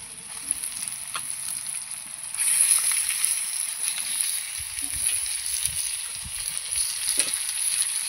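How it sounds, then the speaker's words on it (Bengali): Chicken pieces go into half-fried onions in a pan for chicken posto, a constant high sizzle swelling louder after the meat lands, with scattered stirring clinks and soft spatters close by. "এই যে পেঁয়াজ আমি আধা ভাজা করেছি, এবার এর মধ্যে মাংসটা দিয়ে দেবো।"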